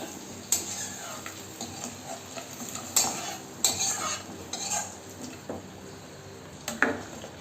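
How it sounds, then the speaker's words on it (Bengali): A spoon stirs and clinks against a pot as potatoes and tomatoes go into simmering vegetarian dalia khichuri, giving scattered metallic taps and scrapes over a soft bubbling background. "আলু আর টমেটোগুলো দিয়ে দেবো।"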